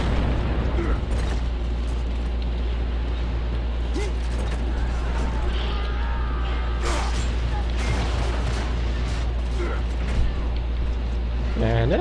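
A frag grenade goes off in the online multiplayer shooter Gears of War: Judgment, with loud bursts and mechanical game clatter filling a dense, continuous mix while players talk over it.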